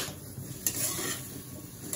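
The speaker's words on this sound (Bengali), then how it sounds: "এখন সুন্দর করে এগুলো ভেজে নিতে হবে" Vegetables with green chili frying and being stirred in hot oil, a steady close sizzle with scraping spatula strokes and a couple of sharper clinks against the pan, no talking.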